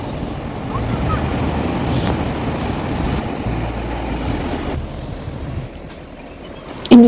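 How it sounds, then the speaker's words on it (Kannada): Strong sea waves roll onto a beach shore in a loud, continuous surging wash mixed with gusting wind buffeting the microphone, and a voice can be heard briefly. "ಇಲ್ಲಿ ಅಲೆಗಳು ತುಂಬ ಜೋರಾಗಿ ಬರೋದ್ರಿಂದ"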